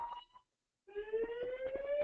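A fire alarm sounds during an online hangout: a sharp, steady electronic tone with rhythmic pulsing. It starts after a short quiet gap and holds loud and continuous to the end.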